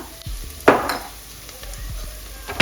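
Spices and turmeric sautéing in a pan for chicken biryani: steady sizzling with sharp stirring scrapes and clinks of a utensil against the pan, loud and close.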